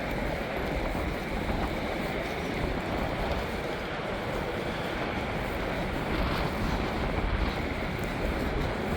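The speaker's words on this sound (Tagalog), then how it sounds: "Mahangin din dito banda." Steady, rushing wind roars continuously at a bus stop in Canada, a broad, unbroken noise close to the microphone with no voices.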